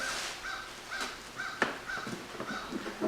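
A crow caws several times in a short series of clear, evenly spaced calls. They sound moderately distant over faint outdoor background noise.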